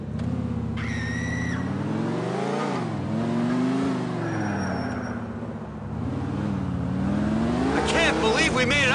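Car engine droning and shifting pitch as the vehicle accelerates and eases off in GTA IV: The Ballad of Gay Tony, close and steady throughout, with voices talking over it and a brief tire squeal near the end.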